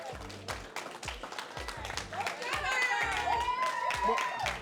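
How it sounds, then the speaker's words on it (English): Audience applauding a graduate at a brotherhood graduation ceremony in Baltimore, steady clapping from a crowd with voices and a few whoops mixed in, swelling louder toward the end. "Give him a round of applause."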